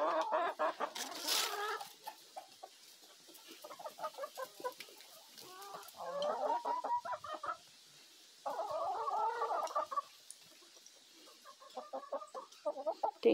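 Backyard chickens near a vegetable greenhouse cluck and murmur in scattered bursts, fairly close but soft, with quieter gaps between the clucking phrases and no talk over them.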